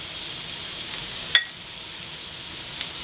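Onion frying in a pan with spices for a spicy egg half-fry, a steady soft sizzle running throughout, broken by one sharp clink of a utensil against the pan.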